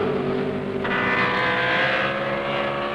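Ron Mancini's Dodge drag racing car roars down the strip at a 1970 drag racing event, its engine loud and close in a sustained, rising howl, with no talk over it.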